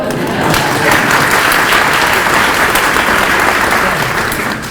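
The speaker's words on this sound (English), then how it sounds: "We're clapping for her for saying something in her native tongue." An audience at a school string orchestra holiday concert claps in a steady, dense burst of applause that holds evenly for several seconds before easing slightly at the end.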